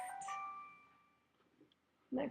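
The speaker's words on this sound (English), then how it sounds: "that is my phone going off" A mobile phone rings with a steady melodic electronic tone that sustains and fades before a voice cuts in at the end.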